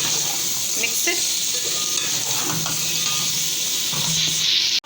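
Tomatoes fry in a pan for egg biryani while being stirred, a loud constant sizzle with scattered scraping and clinks from the stirring throughout.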